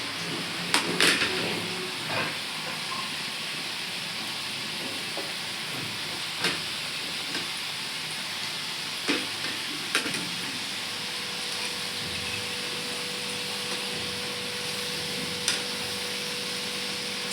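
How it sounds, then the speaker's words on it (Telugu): Potato French fries on their second fry in well-heated boiling oil, giving a steady, even hiss throughout with a few faint clinks, close and moderately loud with no speech. "ఇప్పుడు మళ్ళీ రెండోసారి వేస్తున్నాను. నూనె బాగా మరుగుతుంది."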